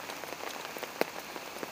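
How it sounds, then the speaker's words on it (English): Steady rain falls outdoors, a dense, even patter of drops with one sharper splash near the middle and no voices. "It's raining."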